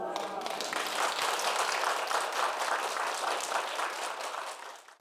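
Studio audience on a Korean talk show clapping together, a loud, dense burst of applause that starts at once, holds steady and fades out in the last second.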